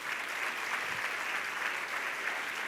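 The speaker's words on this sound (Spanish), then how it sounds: "Denle un aplauso al Señor." A church congregation applauds in a steady, even wash of clapping that sounds somewhat distant and soft and lasts the whole stretch, with no voices over it.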